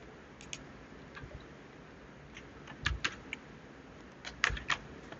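Sharp keyboard key presses on a computer keyboard, a few scattered soft clicks followed by a couple of louder thumping spacebar-like strikes near the end, heard close up in a quiet room with no talk.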